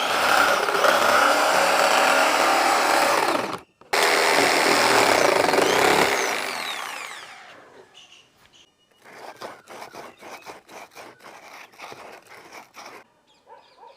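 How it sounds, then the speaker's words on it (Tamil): Loud, continuous power tool whine cutting a PVC sheet, close up, with a brief stop partway through, then a winding down followed by rapid scraping and clicking bursts. "இப்போ நம்ம மார்க் பண்ணதை மட்டும் அந்த PVC ஷீட்ல இருந்து அப்படியே கட் பண்ணி தனியாக எடுத்துடலாம்."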